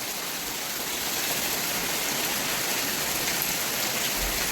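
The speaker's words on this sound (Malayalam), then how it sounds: "നല്ല രാവിലെ തന്നെ നല്ല മഴയാണ്" Heavy rain pours down in a steady, dense hiss that holds loud and unbroken throughout.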